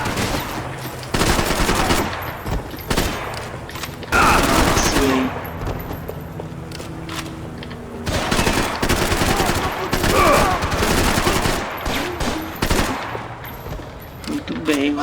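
Sustained automatic gunfire bursts in the video game Max Payne 3, loud and dense, with shouted Portuguese voices talking over and between the shots.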